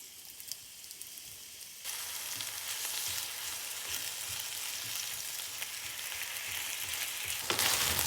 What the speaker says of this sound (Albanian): Tigani të jetë gati, vaj ullirit, komplet pulën ta skuqim.